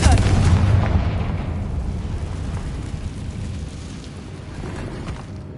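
A Confringo blasting spell explodes in a video game, a deep booming blast at the start that rumbles and slowly decays over several seconds.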